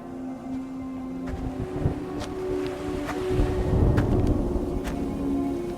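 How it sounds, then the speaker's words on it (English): Storm sound effect in a radio drama: a steady rush of wind and rain with low rumbling swells and sharp crackles scattered throughout, building slightly louder toward the middle, with no voices. "looks like a storm's coming in"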